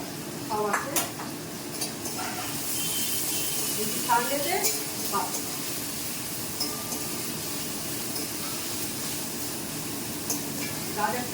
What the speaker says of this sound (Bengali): একটু ভাজা হোক তারপরে